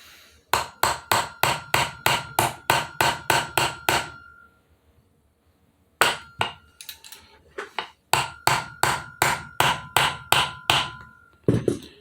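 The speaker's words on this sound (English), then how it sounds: "It's just an odd direction to hammer for me." Rapid, evenly spaced hammer blows ring out with a sharp metallic clang while assembling vent windows on a 1964 Ford F100, in several bursts separated by short pauses, close and loud.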